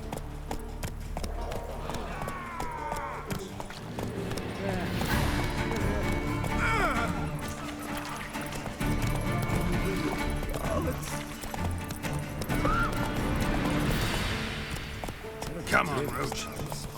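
Roach, the horse in The Witcher 3, gallops with a steady clip-clop of hooves and lets out occasional neighs, while people talk over the in-game sounds.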